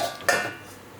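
A lid is set over a pot of Gobindobhog rice bhuna khichuri, giving a single sharp metallic clank that rings out briefly and fades, alone without speech.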